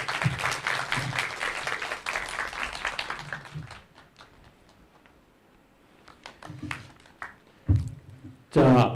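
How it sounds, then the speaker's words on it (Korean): Applause from an audience at a project presentation event welcoming an education operations director, with a dense burst of clapping at the start that thins out, followed by a few scattered claps and short sounds later. "큰 박수로 환영해 주세요."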